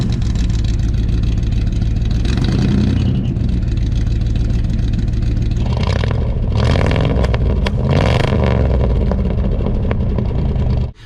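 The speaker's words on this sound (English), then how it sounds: "So it goes without saying that the muffler sounds like shit" A car engine revs hard through a homemade DIY muffler, loud and raspy, with a steady idle roar broken by several sharp rising revs before cutting off at the end.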